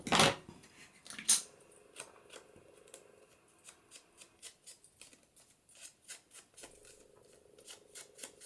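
Scissors snip through a sheet of acetate being trimmed to fit a Christmas card, with two sharp cuts at the start followed by a run of quieter, rhythmic snips and rustling close by.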